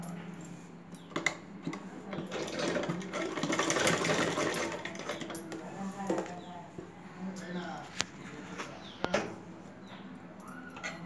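A sewing machine runs in bursts as thread piping is stitched onto a blouse, a fast mechanical whir with clicks between runs while someone talks over it.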